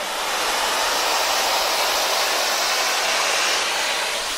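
Bed bug steamer blasting over a chair, a loud, continuous broadband hiss holding steady throughout with no speech.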